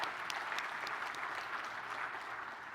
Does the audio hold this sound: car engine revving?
no